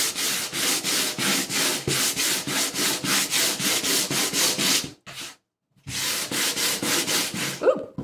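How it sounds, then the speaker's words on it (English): Hand sanding a wood picture frame, a steady series of scratchy back-and-forth strokes, close and loud, briefly stopping near the middle before resuming in the same even rhythm. "you want to make sure you keep your sanding lines straight"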